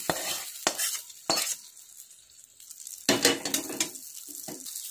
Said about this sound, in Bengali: এবার আমি মশলাটাকে ফ্রাই প্যানে ঢেলে দিলাম।